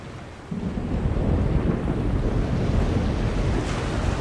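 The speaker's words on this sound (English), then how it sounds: "Storm front. West. Heading our way. Looks like a right old bugger too." Thunderstorm in the video game The Longest Journey: a loud, steady roar of wind and rumbling thunder fills the scene continuously, swelling slightly after the first moment, with no voices.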